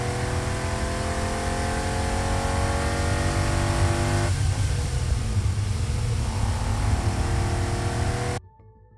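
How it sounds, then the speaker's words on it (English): A Ferrari engine roars up close in a professionally recorded vehicle effect, its rich harmonic whine rising as it revs, then shifting to a rougher, gritty drone before cutting off abruptly. "The sound of a Ferrari, kindly provided by Pole Sound Effects"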